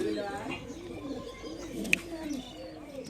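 Soft pigeon coos and murmurs close by from pigeons for sale, including a female, mixed with low rustling and a brief sharp chirp, under a quiet background.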